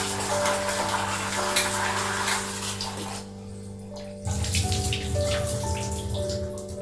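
Tap water runs steadily into a sink while kidney beans are washed, a dense hiss and splash that briefly quietens then resumes, with a faint tonal hum underneath and no talking.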